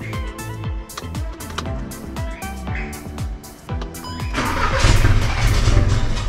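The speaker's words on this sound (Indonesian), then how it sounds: "sekarang gue nyalain mobil gue" A car with a badly damaged flywheel cranks and fires up. Rhythmic starter churning gives way to a rough, harsh-running engine with a grinding roughness, loud and close.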